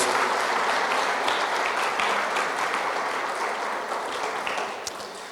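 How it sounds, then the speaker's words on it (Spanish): Sustained applause from a church congregation at a Sunday service, a dense, steady wash of clapping that fades slightly toward the end, with no talk over it. "Vamos a darles un fuerte aplauso a ellos."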